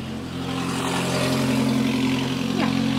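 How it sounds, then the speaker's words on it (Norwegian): A car with something apparently wrong with it drives past on a morning outing, a steady engine and tyre roar rising to a peak near the end, with a constant low hum underneath. "Et eller annet hørte ut som var gærent med den bilen, men det var en bil."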